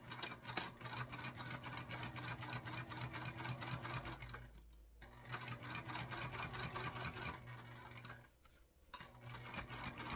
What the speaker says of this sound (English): we're going to go ahead and do a stitch, an 8 from the top, and then we'll come back and do another stitch right underneath it